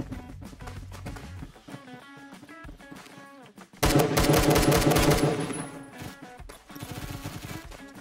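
AK rifle fire in Roblox Phantom Forces, heard as a loud burst of rapid automatic shots from about four to five seconds, with fainter shots before and after, all set over steady game music.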